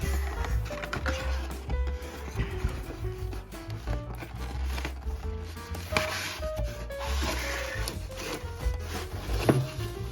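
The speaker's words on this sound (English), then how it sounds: "using the back of my trusty box cutter, see if I can open this guy up" The back of a box cutter scrapes and rubs along a cardboard box holding a 1:18 AutoArt Porsche 911 model car, giving a steady close-up run of scratching and rasping strokes with no talk.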